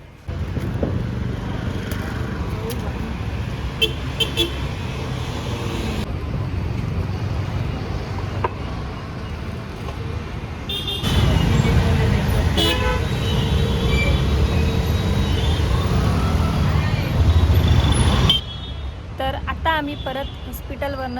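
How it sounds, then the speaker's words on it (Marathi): Busy city traffic in Pune rumbles past with engines and road noise, punctuated by several short car horn toots, growing louder midway; voices talk over the traffic in places. "पुणे सिटीमध्ये भरपूर ट्रॅफिक आहे"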